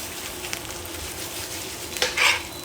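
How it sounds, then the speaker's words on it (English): Garlic, chilli and ginger fry with belly pork and teriyaki-soy seasoning in a pan, giving a steady close sizzle, then a louder scraping burst as the mixture is stirred. "And give that a stir."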